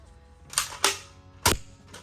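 A Nerf toy gun fires a few sharp, quiet snaps and clicks indoors, spaced unevenly with low background hiss.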